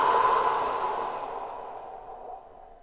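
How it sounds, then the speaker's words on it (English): A single forceful, noisy exhale in a breathing exercise, heard close up as a breathy rush that starts strong and fades steadily over about three seconds. "then you breathe out, but forcefully and with some noise"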